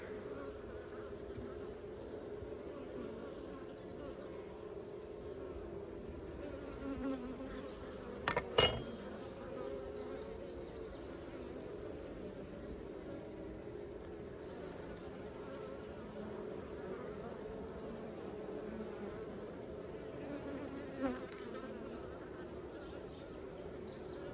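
A steady, fairly quiet drone of honeybees buzzing throughout an inspection of a Layens hive, with an occasional faint knock or click from handling the frames.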